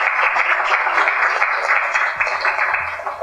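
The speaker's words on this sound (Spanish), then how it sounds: "Aplausos para el doctor." Steady applause from an audience at a law book presentation, a dense patter of clapping hands filling the room throughout.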